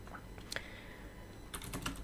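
Soft typing on a computer keyboard while writing code for lane detection, a few faint key taps early and a quick cluster of keystrokes near the end over low background hum.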